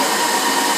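A 2003 Daewoo Puma 400B CNC lathe spindle spinning at 600 RPM makes a constant airy whirring hum, near and unbroken, with no voices.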